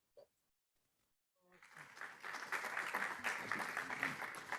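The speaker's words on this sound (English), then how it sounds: "So I hope you can listen to the applause here in the audience." Conference audience applause at an opening plenary, starting after a near-silent pause and quickly building into steady, dense clapping.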